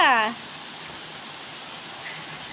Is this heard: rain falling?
yes